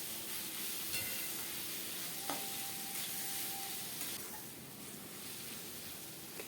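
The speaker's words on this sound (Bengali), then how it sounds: "এবার ভালো করে আমি এগুলোকে একসাথে ভেজে নেব।" Onions, ginger-garlic paste and chopped tomato frying together with salt in a pan: a steady, quiet sizzle with occasional spoon scrapes and taps, easing slightly softer in the second half.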